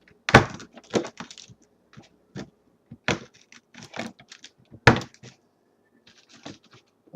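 Set peppermint bark is snapped and broken into chunks, making a series of sharp, close cracks and brittle crunches in irregular bursts separated by short quiet gaps.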